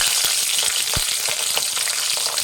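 Around ten green chillies frying in hot oil in a pan for a spicy coriander chicken dish, a steady close sizzle with a few sharp pops and crackles scattered throughout.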